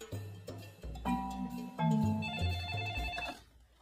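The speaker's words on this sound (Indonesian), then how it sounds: "Sam dengan berani mencoba menelpon si Lisa" Telephone ringing sound effect, a bright electronic ringtone melody of stepped tones repeating over a few seconds, with a low accompanying pulse underneath and a clean stop near the end.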